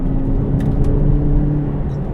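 A McLaren 570GT sports car drives at speed, its engine giving a steady low drone with tyre and road rumble, close and continuous with no voices.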